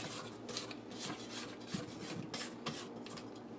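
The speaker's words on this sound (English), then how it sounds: "I'm going to scrape the sides once just to make sure that the egg is mixed completely with all of the butter" A spatula scrapes around the sides of a bowl of Jamaican rum cake batter made with butter and egg, giving soft, close, repeated rubbing and rasping strokes with no talk.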